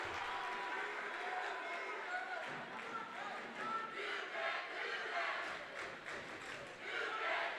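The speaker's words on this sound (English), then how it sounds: "Now the Collinsville student body cheering section gets in on the chants." A student body cheering section chants rhythmically in a gym at a high school basketball game, a sustained roar of many voices filling the space while a commentator talks over it.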